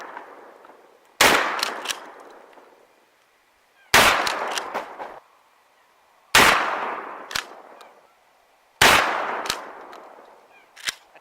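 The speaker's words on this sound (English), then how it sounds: "now we're going to hit it with 3 more birdshot and 3 more buckshot" A 12 gauge shotgun fires four loud, spaced blasts of birdshot and buckshot at a TV, each sharp report followed by ringing debris and a short decaying tail.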